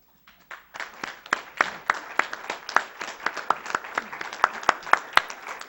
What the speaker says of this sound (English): please stand up and applaud